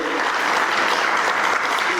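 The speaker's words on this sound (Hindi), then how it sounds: "एक बार तालियां बजाकर हम उनका अभिनंदन करें" A conference audience claps together in a dense, even burst of applause lasting a couple of seconds, with no voices on top.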